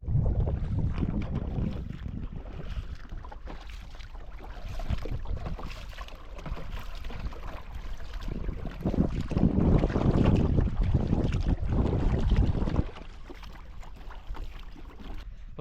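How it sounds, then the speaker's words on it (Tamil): A round coracle (parisal) glides on river water near Mettur Dam, with a steady wash of water and heavy wind buffeting the microphone, swelling louder midway and easing near the end. "பரிசலில் ஃபஸ்ட் டைம் போகிறேன்."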